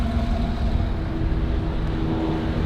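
Supercharged V6 of a Lotus Exige 390 Sport Final Edition driving through English countryside, a continuous loud engine drone with steady low rumble and road noise, heard from inside the car with no speech.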